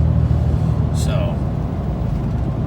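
Cab interior of a Ram truck with a G56 manual transmission cruising at about 1600 RPM, a steady low engine and road drone close up, with someone talking over it.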